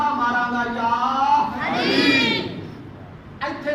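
A crowd chants the religious slogan Ya Ali in one loud, unified shout that swells and fades within a few seconds, with a voice rising again at the end.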